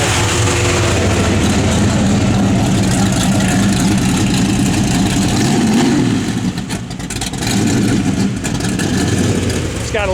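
A 1968 Dodge Dart GT fitted with electric exhaust dumps runs loud and close, holding a rough, steady idle that swells into brief revs before settling again.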